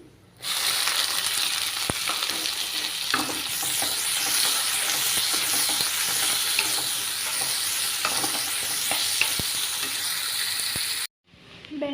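Red chilli and chopped onions fry in hot oil for an okra fry, a loud, steady sizzle with occasional stirring clicks and scrapes that carries on for most of the moment before cutting off abruptly near the end.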